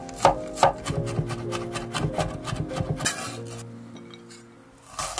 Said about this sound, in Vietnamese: Băm hành tỏi để ướp tôm.